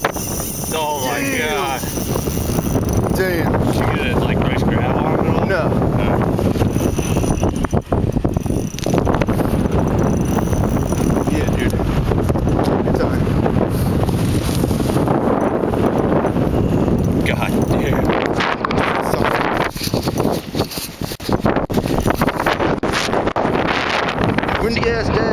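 Strong wind buffets the microphone in heavy, continuous gusts outdoors while ice fishing at Marsh Creek, Pennsylvania, with rustling and occasional knocks beneath a voice speaking now and then.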